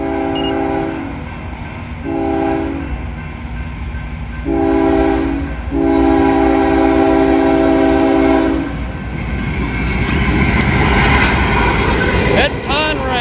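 A Conrail freight train passes, with several loud horn blasts in a rising sequence followed by the growing rumble and clatter of wagons close by. Voices can be heard over the noise.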